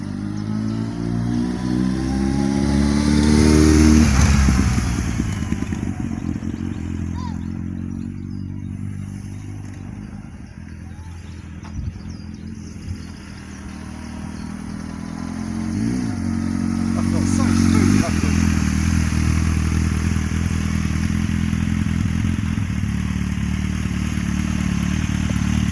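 A motorcycle rides past close by with a steady engine drone that swells and fades as it passes, with some clatter, while people talk over it.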